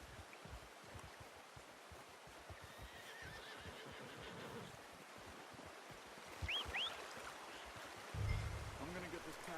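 A horse whinnies briefly in a rough, outdoor game soundscape, with a low snort near the end and steady ambient hiss throughout.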